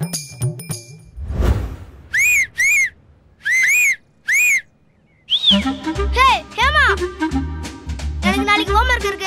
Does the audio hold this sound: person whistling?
yes